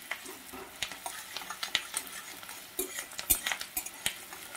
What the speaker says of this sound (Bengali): পেঁয়াজটা অল্প একটু ভেজে নেব।